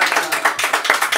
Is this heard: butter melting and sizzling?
no